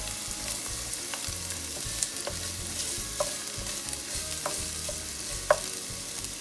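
Ginger, garlic and onion sauté in a pan for Filipino pancit, a steady close sizzle with occasional light stirring clinks.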